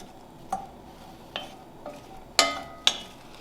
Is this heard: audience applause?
no